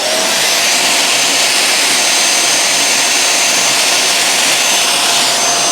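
A Silvercrest SMS 300 C3 handheld anti-dust-mite vacuum cleaner with UV lamps runs continuously, a loud, steady, close-up motor whine and airflow hiss with no change in pitch or level.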